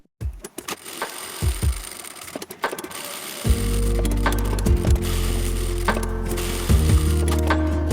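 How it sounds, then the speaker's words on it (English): A sewing machine runs steadily, stitching around the edge of quilted fabric pieces for a baby changing mat, preceded by a few close clicks and taps before the continuous motor whir. "I stitch all the way around, about 5 mm in from the edge, joining the two pieces into a single layer"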